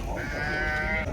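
Sheep and lambs bleat at a livestock market selling sheep and goats, a sustained wavering bleat standing out over a steady crowded background murmur.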